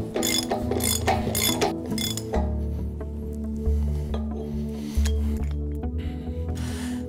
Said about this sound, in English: Now do up the hub nut while rotating the hub in both directions.